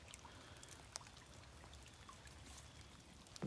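Rain patters steadily outdoors at close range, a dense soft hiss with scattered louder drops, fairly faint overall.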